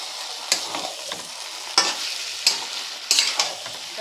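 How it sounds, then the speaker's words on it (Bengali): Mutton with its fat is stir-fried kosha-style in a pan, with sharp scraping spatula strokes every half second or so over a low, crackling sizzle, close and clear with no talking. "চর্বিটা দিয়ে আরও মিনিট খানেকের মতন কষিয়ে নেব, নিয়ে জলটা দেব।"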